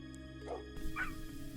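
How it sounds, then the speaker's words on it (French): A dog barks twice with short yips, sounding far off and subdued against a steady low hum of background noise. "Même si votre chien aboie au fond du jardin."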